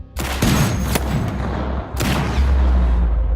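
Gunshots with a bullet leaving the muzzle, two loud sharp blasts about a second and a half apart, each trailing into a heavy rumbling boom with a deep low tail.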